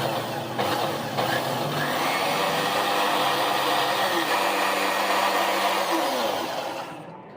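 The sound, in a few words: blender blending chutney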